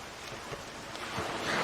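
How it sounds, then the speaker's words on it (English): Steady rain falls in the video game Zelda: Wind Waker, a continuous soft hiss that swells slightly toward the end, heard alone at moderate distance. "And it's raining."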